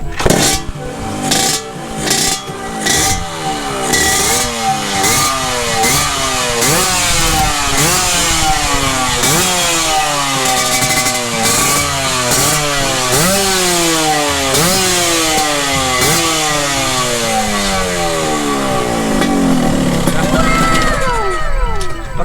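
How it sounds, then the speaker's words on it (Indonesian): A 2002 Yamaha RX King two-stroke motorcycle engine starts and revs repeatedly, its pitch climbing and falling in rhythmic sweeps, loud and close, with a brief higher whine near the end. "Kita naik ke motornya dan kita langsung aja starter."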